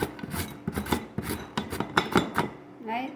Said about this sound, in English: I will be using this to grate this, like this